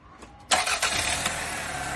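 A car engine cranks briefly, then catches and settles into a steady, close running idle.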